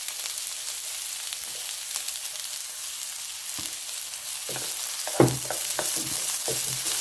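Red bell pepper and shrimp sizzle steadily in a hot pan with a constant frying hiss, broken by a few clinks and scrapes of stirring, close and without talk.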